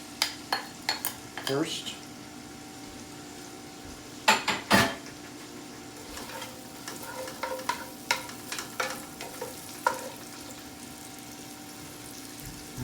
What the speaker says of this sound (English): Now we're going to slide our onions in here.